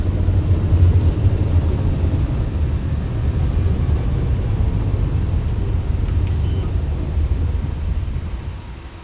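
A spacecraft setting down on a planet in a video game, a loud, steady low engine rumble and roar that holds throughout, then eases slightly at the end, with no voices.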